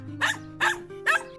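A dog barks four times in a steady, evenly spaced rhythm, each bark loud and close with a slightly rough, growly edge and brief quiet gaps between.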